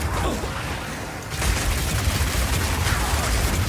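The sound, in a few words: delayed grenade explosion from a crossbow in Path of Exile video game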